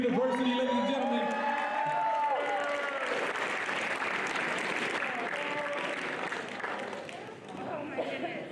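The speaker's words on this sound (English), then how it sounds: "Round of applause for Big Paul going to Baylor University, ladies and gentlemen" Crowd applauding and cheering at a signing event for Big Paul, who is going to Baylor University; sustained clapping and whoops rise over loud voices and chatter at the start, then settle into steady applause throughout.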